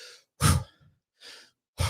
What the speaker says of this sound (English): You hear my breathing like that?